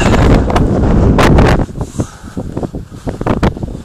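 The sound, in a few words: wind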